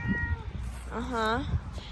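A house cat meows in a long, rising-and-falling cry outdoors by a large mint patch in an herb garden, clear and close amid light background sound.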